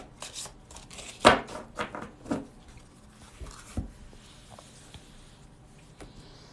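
Cards shuffled by hand at a table, quiet soft riffling and tapping bursts in short irregular clusters, with one sharper snap early on, close and faint against a low room hum.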